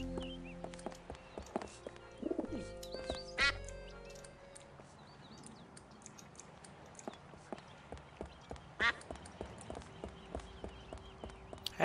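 A duck quacks a few times in the Escape From Monkey Island video game, short bright calls set among rhythmic clip-clop steps and scattered chirpy game effects.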